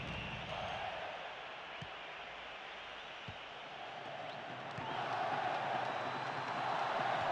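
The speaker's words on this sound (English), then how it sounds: "Crowd just waiting for the half-time whistle." A stadium crowd in PES 2013 keeps up a faint, constant murmur and roar, swelling slightly louder toward the end with no clear cheers.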